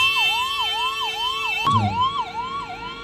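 An ambulance in a Paschim Medinipur district police Republic Day parade sounds its wailing siren, rising and falling steadily and loudly throughout, with a brief low thump midway.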